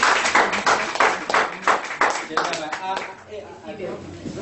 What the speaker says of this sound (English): Okay, let's clap for them,